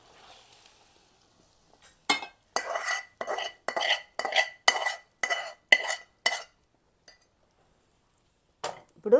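Egg biryani being stirred in a cooking pot, giving a steady rhythm of about ten scraping, clinking strokes of a spoon against the metal, fairly close, then a pause and a couple of final strokes, with no talk.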